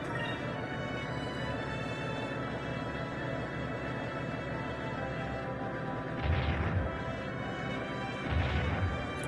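Cannon attack in Skies of Arcadia battle: two heavy booming blasts land a few seconds apart over a steady, dense game soundtrack, with no talking.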